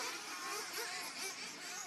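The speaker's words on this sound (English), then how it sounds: "We'll let these cars get out and do some laps." Nitro-style RC race cars run warm-up laps before a six-minute IFMAR-format qualifier, a steady high-pitched engine whine that swells and fades slightly as the cars circulate, with no voices.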